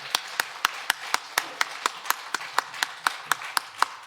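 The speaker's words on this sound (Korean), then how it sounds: "위대하신 하나님, 영광의 하나님께 우리 힘찬 박수로 영광 돌립니다." Church congregation clapping hands in unison, sharp, evenly spaced claps in a steady rhythm, roughly four per second, loud and close with a faint hum beneath.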